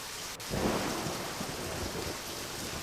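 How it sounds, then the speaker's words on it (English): Steady, hissing heavy rain pours in the video game Deadly Premonition, and a deep rumble of thunder rolls in and lingers beneath the constant downpour. "Oh, it's raining today."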